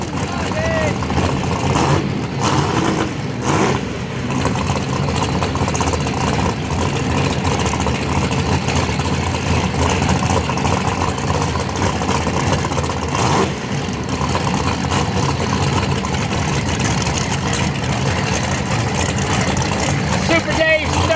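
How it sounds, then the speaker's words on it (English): A Pontiac GTO Pro Charge nitrous drag car runs down the track at Toronto Motorsports Park, a loud dense engine roar filling the span while a commentator talks over it. "Pontiac GTO Pro Charge combination."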